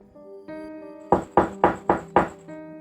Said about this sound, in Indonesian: Suara seseorang mengetuk pintu rumahku.